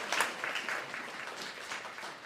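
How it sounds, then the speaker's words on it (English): Quiet applause from the audience at a Guide Dogs for the Blind graduation ceremony for class CA1048, a soft, continuous patter of clapping heard from some distance at low volume. "how about another round of applause for the class of"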